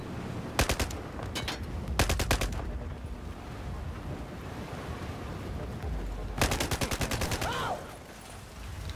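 Battlefield 4 gunfire in a prison-break map, heard as three loud, sharp bursts of rapid shots spread apart, with quieter game noise between them.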